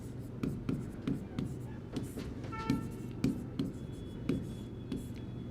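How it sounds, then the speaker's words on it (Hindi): Chalk or marker writing on a board in a classroom-style lesson, faint regular taps and scratches over a low background hum. "ये मैं लिखता हूँ"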